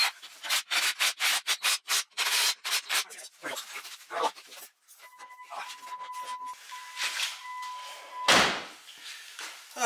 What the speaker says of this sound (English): Let's see if she scrapes.